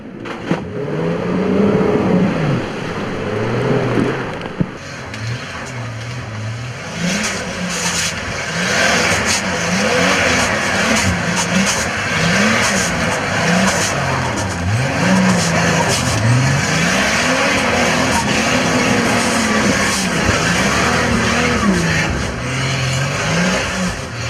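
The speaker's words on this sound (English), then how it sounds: "It's a Suzuki Vitara with a Commodore V6 engine and Hilux running gear." A Suzuki Vitara fitted with a Commodore V6 engine and Hilux running gear drives off road, its engine revving up and down in repeated surges with a rough, close drone throughout.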